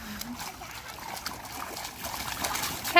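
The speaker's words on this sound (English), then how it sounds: "You're gonna splash all your water out." A child splashing water in a small pool on a summer day, scattered close sloshing and trickling splashes at a moderate level, with voices speaking over them.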